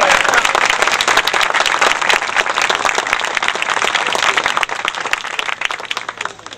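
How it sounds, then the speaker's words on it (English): An outdoor crowd at a bridge dedication applauding volunteers, with steady, dense clapping that holds loud for several seconds and then tapers slightly. "A round of applause for the volunteers."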